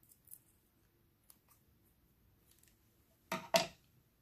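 Scissors snipping the thread tail on beaded earrings, two quick close snips near the end after a few faint ticks in near silence.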